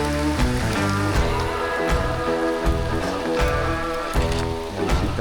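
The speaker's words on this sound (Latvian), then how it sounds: "Krusa višķiņ trāpījusi." Rain mixed with hail falls steadily outdoors during a long-distance support trip, a dense, continuous patter with sharper scattered impacts and no voices.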